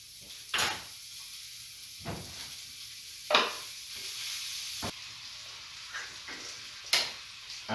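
Chorizo and a small knob of butter sizzling in a frying pan for a breakfast sauce, a soft steady fizz broken by several sharp utensil scrapes and clacks against the pan.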